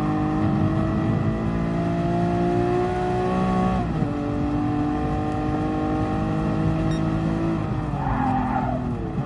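Lamborghini Countach racing in Gran Turismo Sport, a loud continuous engine whine with layered harmonics shifting pitch through gear changes and tyre skids, close and steady throughout, no voices.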